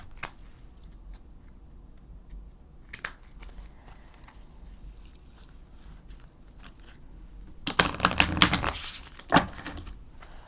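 A few scattered soft taps, then a brief, dense burst of shuffling a small deck of cards, a quick flurry of crisp snaps close by.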